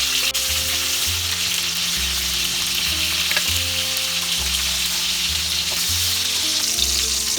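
Pointed gourd (parwal) frying steadily in oil, a dense continuous sizzle with a low rhythmic hum underneath, close and loud throughout with no talking.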